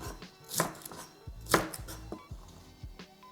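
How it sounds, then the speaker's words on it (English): A knife chopping leaves into small pieces on a cutting board, a handful of close, sharp thuds at an uneven pace, with some louder strikes among lighter taps. "I just cutting these into little pieces"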